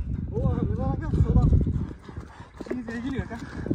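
A horse at a sale, heard as clip-clop hoofbeats and a brief whinny beneath someone talking close by.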